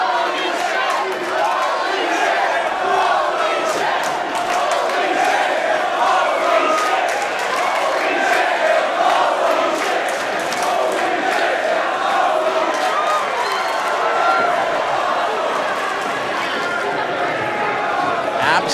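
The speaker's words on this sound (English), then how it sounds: "a sold-out crowd at the Commodore Ballroom showering him with praise" A sold-out wrestling crowd at the Commodore Ballroom in Vancouver cheers and chants steadily in a loud, dense roar, with a commentator talking over it.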